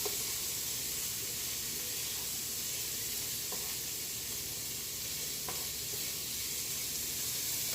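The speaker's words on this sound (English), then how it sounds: "we're going to deglaze the pan with our white wine, and lemon juice" Hot pan being deglazed with dry white wine and lemon juice, with onions cooked translucent for a chicken sauté with garlic and basil, giving a steady loud sizzle and hiss throughout with a few faint clicks, no talking.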